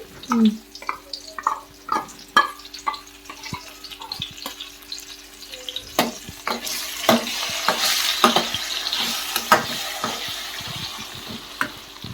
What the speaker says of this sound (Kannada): ಹೀಗೆ ಸ್ವಲ್ಪ ಫ್ರೈ ಆಗಲಿ ಟೂ ಮಿನಿಟ್ಸ್ ಅಷ್ಟೇ